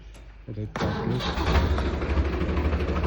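A tractor engine cranks and catches partway through, then settles into a steady, loud, close rumble, with a brief voice before it starts.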